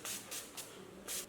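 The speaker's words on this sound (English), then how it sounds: "drench our face with the setting spray" Setting spray misted onto a face during a makeup routine, heard as four short, close hissing bursts separated by brief pauses, quiet overall.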